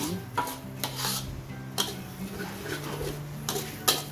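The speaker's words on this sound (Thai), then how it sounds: "ค่อยๆผัดไปเรื่อยๆยิ่งผัดนานนะคะพริกเขาก็จะยิ่งออกสี" Chili is stir-fried in a pan for salted egg chili paste, with soft scraping and stirring clicks over a faint background sizzle, quiet and close.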